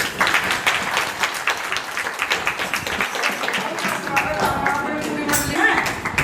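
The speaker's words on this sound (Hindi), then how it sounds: "जोरदार तालियां इनके लिए।" Loud applause breaks out at a nature satsang gathering in Rohtak as the crowd claps for honourees, a dense sustained roar of many hands lasting several seconds, with voices mixed in beneath.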